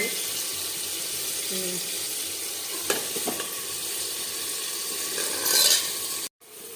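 Hot water hits mutton browned in oil with onion, making a steady close sizzle and bubbling with a clatter of stirring, a brief louder surge near the end, then a sudden cutoff.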